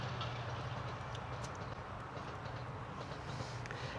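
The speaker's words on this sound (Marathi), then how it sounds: "बघा ट्रेन बघा" A passing train heard faintly from a distance in rural Kankavli, a low steady rumble with soft rhythmic clatter of wheels on track.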